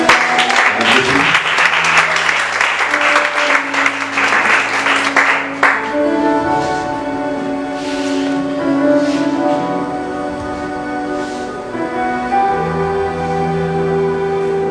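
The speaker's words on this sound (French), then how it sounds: "Je veux qu'on acclame Dieu pour." A church congregation at a revival tent service bursts into loud, dense applause and cheering for about six seconds. The clapping then fades, and sustained organ or keyboard chords with scattered voices carry on beneath it.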